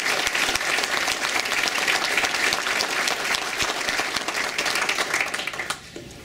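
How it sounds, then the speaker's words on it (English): A large audience at an Okanagan College Foundation event claps steadily in a dense, loud round of applause honoring donors, holding for several seconds before tapering off sharply near the end. "Please join me in a round of applause for the donors to the Okanagan College Foundation"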